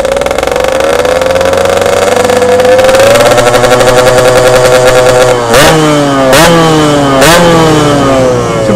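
Yamaha RX-King motorcycle with an aftermarket exhaust, loud and close, idling with a raspy two-stroke drone, then three sharp throttle blips that spike the revs and drop back.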